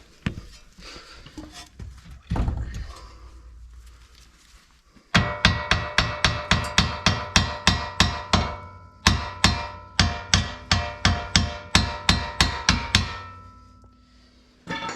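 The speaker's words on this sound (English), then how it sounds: "use a hammer to whack it back in" A hammer drives a front wheel bearing hub back into a Subaru Legacy, Forester, Impreza, Outback or XV. After a few scattered knocks, about two dozen sharp, evenly spaced metallic blows ring out close by.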